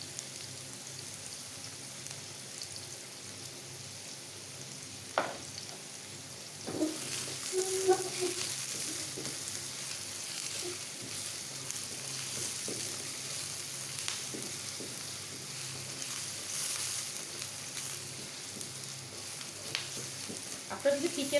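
Onions frying in oil over medium heat for homemade pad thai: a quiet, continuous sizzle, close by, broken now and then by soft stirring clatters and scrapes.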